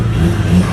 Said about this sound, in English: The thing it's all about is that induction roar.